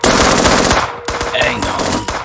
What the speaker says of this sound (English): We'll provide suppressing fire.